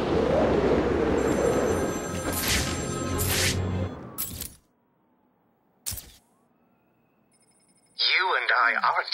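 Telephone ringing in Batman Arkham City during the Cold Call Killer side mission, a bright repeating electronic ring arriving at the end after game dialogue, music and a brief silence.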